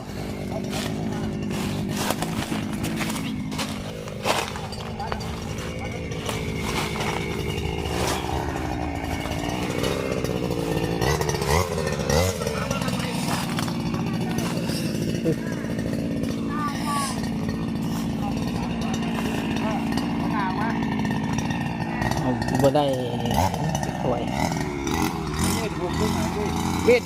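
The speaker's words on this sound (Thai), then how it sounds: "ตอนนี้กำลังเร่งเครื่องกำลังสถิตการตัดหญ้า" A small two-stroke grass cutter engine revs up and down repeatedly beside a rice paddy, close and loud, with a person talking intermittently over it.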